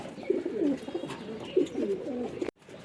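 A female pigeon coos in low, repeated throaty phrases, close and fairly clear, before a sharp cutoff near the end. No talking is heard.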